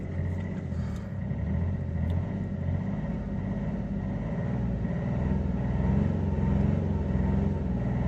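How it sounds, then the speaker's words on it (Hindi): A car engine idles steadily after being started by Alexa voice command, a low close rumble holding level throughout, with no one talking. "देखिए गाड़ी स्टार्ट हो गई है, इग्निशन ऑन हो गया है"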